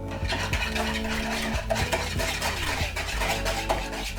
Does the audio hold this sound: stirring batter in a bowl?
yes